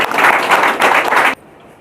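Audience at a talent-hunt welcome ceremony breaking into loud applause, a dense burst of clapping that cuts off abruptly after about a second.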